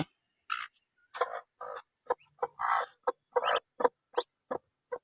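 Three-day-old Chinese ducklings give repeated short, sharp peeping calls in a quick, irregular series, close by with no talk.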